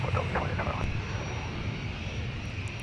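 A KLM airliner at MSP airport taxis toward a gate, its engines a steady broad roar heard from a distance, with a voice speaking briefly at the start.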